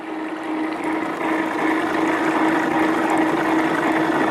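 Water flowing steadily through a GW25 spiral gold concentrator separating black sand, a continuous loud rushing wash with a constant low hum running under it, with no voices.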